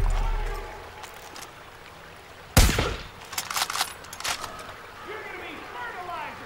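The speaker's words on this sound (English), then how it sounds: "Gunshots close by." A sharp, loud gunshot cracks out, followed by a rattle of further shots and bursts amid a steady background rumble, in the video game Far Cry 5.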